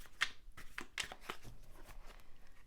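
Tarot cards being shuffled in the hands, a series of crisp riffling flicks and soft slaps across a few seconds, close and moderately quiet with no talk.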